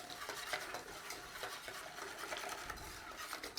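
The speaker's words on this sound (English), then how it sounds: "In there, our juice. Stir it all in." A spoon stirs lemon juice into a lemon curd mixture, with close scraping and swishing against the bowl in a quick, continuous rhythm.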